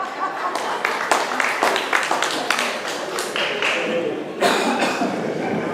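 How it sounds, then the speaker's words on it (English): An audience at the Bermuda Cricket Board 2014 Awards applauds as the board president walks to the stage, with dense clapping that is sustained at moderate loudness over several seconds and swells again near the end. "please give him a round of applause"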